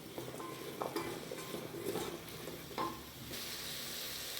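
Masala with vegetables lightly sautéing for rice-cooker paruppu rice: a quiet continuous sizzle broken by several soft stirring scrapes of a spoon in the pan, close by, with no talking.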